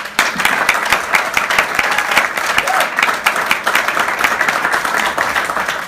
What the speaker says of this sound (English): get one more big round of applause for these incredible writers